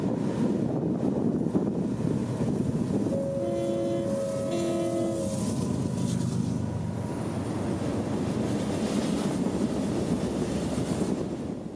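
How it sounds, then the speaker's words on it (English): A CSX unit freight train of aggregate cars with a tank car rolls by on the Florida mainline, a continuous heavy rumble and wheel roar buffeted by wind, with a short horn-like tone early on. "this train is sometimes a unit train of aggregate"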